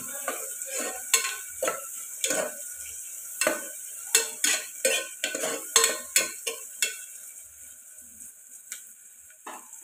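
Mutton curry ingredients frying with curry leaves in a pan, a steady sizzle broken by repeated sharp scrapes and stirring knocks of a spatula against the metal, close and fairly loud.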